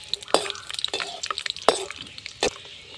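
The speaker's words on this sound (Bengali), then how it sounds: "আমি এই কাঁচা বাদামগুলো লাল লাল করে ভেজে নেব, ভালো করে নেড়ে চেড়ে" Raw peanuts frying in a pan and being stirred, with scraping stir strokes and light crackles at intervals, close and moderately loud, no talk.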